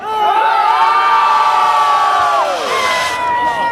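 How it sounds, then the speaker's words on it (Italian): A large carnival crowd at an allegorical float award ceremony in Torregrotta lets out a loud, sustained collective shout and cheer of several seconds, with many voices merging into one roar. "se vi mettete tutti insieme fate un bell'urlo"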